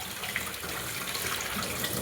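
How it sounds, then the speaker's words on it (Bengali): Raw chicken rinsed in plain water in a kitchen, heard as a steady close splashing, running-water wash with faint clinks, continuous and fairly quiet. "এবার একটু নর্মাল জলে ধুয়ে নিচ্ছি"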